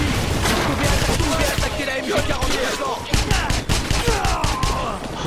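Rapid gunfire bursts from a World War II shooter game, a mounted MG42-style machine gun rattling in dense volleys amid explosions, loud and continuous, with voices speaking French over the battle.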